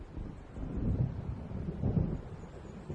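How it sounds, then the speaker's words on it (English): Low distant thunder of an approaching storm rumbles in two soft swells over wind in the video game Alan Wake. "It seems there's a storm coming."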